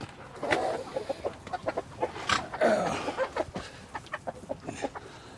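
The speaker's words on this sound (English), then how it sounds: "Yeah, we got 3 hens in here." Chickens and turkey hens in a henhouse, clucking in a busy string of short, close clucks and calls with no talking.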